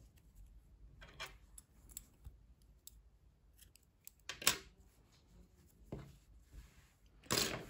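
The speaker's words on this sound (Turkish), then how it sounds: "İpliği kesiyorum burada." Scissors snip through yarn during crochet work, a few sharp, close clicks and cuts spaced out over quiet, with the loudest snips near the end.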